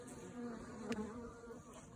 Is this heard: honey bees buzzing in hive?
yes